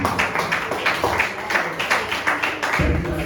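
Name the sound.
audience applause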